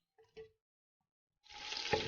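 After a couple of soft knocks and a brief silence, a loud, bright hiss of chopped meat sizzling in hot oil starts up and continues steadily.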